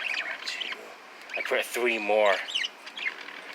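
Pet birds set outdoors on porches make a few brief chirps and squawks, medium loud, with a person talking over them for most of the stretch.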